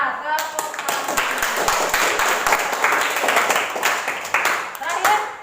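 Students in an Indonesian classroom lesson clap together, a dense, steady patter of many hands that runs for several seconds, with scattered voices and a few brief calls mixed into the noise.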